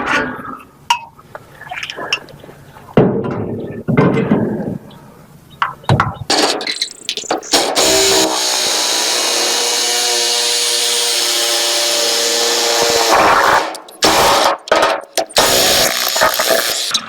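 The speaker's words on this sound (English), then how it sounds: "Milwaukee hacksaw, awesome." A Milwaukee hacksaw cuts through the exhaust pipe of a 1964 Ford F250 4X4 with a loud, sustained rasping drone that runs for several seconds, broken by brief pauses, clanks and handling noises.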